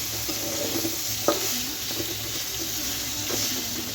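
Vegetables for a Bengali bharta being stirred in a hot pan, a steady soft sizzle under occasional scraping knocks of the spatula, close and fairly quiet, with no talking.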